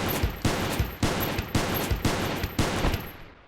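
In Space Station 14, about seven evenly spaced gunshots ring out in a steady rhythmic burst, each sharp, loud and close, with the final shot's tail fading away.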